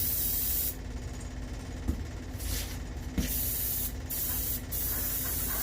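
Aerosol satin clear coat hisses in steady close bursts onto an artificial skull for a European horn mount, with brief gaps between passes and no talking.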